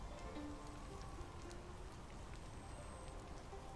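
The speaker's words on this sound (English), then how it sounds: "It's raining." Soft ambient rain falls in a World of Warcraft zone near Morning Breeze Village, a faint, even patter with scattered droplet ticks over a quiet background, no voices.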